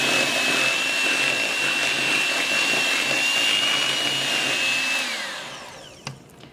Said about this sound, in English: And then you continue mixing it until it's mixed well together.